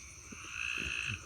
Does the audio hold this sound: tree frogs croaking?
yes